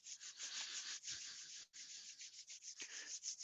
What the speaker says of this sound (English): make that vigorous rubbing a sort of a full body kind of wiggle to generate that heat